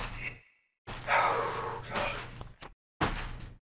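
Dogs bark in the video game Tomb Raider II, a few sharp barks separated by abrupt silences, heard close and fairly loud amid game sounds with no voices over them.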